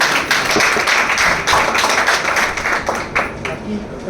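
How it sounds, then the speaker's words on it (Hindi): Clapping from an audience at a direct-selling network marketing gathering, honoring two injured promoters; dense, sustained hand claps with sharp individual slaps, fairly loud and close, mixed with some voices. "इनके लिए तालियां जरूर"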